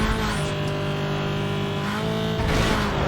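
A modded car's engine roars steadily in Need for Speed Most Wanted on PC, a loud, sustained high-revving drone at high speed with a pitch shift near the end, with no talking over it.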